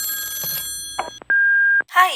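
A telephone gives a few short rings, then a long steady electronic tone sounds before an answering machine picks up; it is loud and close, with no one talking.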